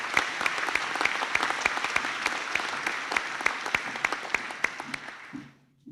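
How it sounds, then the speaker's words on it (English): Sustained audience applause at a 2021 university graduation ceremony for a group of graduates, a dense wash of clapping with sharp individual claps standing out, steady for several seconds before quickly fading out. "if you'd like to give the group a round of applause"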